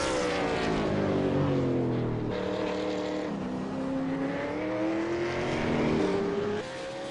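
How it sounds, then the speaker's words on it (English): V8 Supercars racing in a large pack at Oran Park during a 2013 session, several engines droning together with rising and falling pitch as the cars accelerate and shift, loud and continuous. "Everyone else is in this massive one group of cars."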